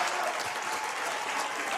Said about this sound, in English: Both sets of fans on their feet, cheering their teams on as we head to the halftime break.